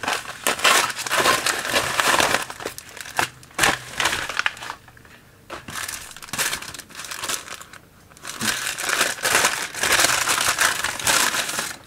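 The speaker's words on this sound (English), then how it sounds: "So much packaging. Why do they need the plastic?" Plastic mail packaging crinkles and tears close up as it is pulled open and crumpled by hand, loud and continuous with a few brief pauses.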